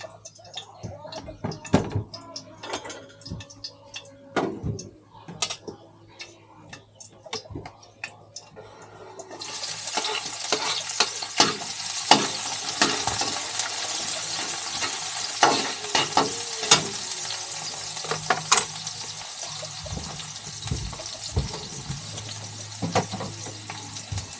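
Onion and garlic sauté in oil; quiet clatter and a few voices give way midway to a louder steady sizzle with scattered stirring clicks and pops, fairly close.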